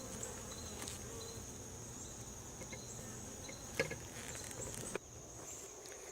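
Steady insect buzzing drones throughout, a dense hum of many bees close by around their hive, with a few faint clicks and knocks.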